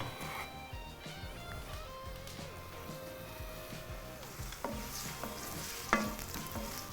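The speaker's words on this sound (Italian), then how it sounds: "Ora faccio soffriggere queste verdure per un paio di minuti, 2-3 minuti al massimo" Coarsely chopped vegetables sauté in hot oil for pasta e fagioli, a steady sizzle with stirring scrapes and occasional clatters from the pan, one sharp knock near the end.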